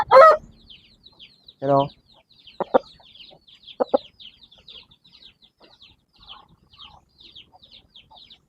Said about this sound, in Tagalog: mga lalaki nating mga manok.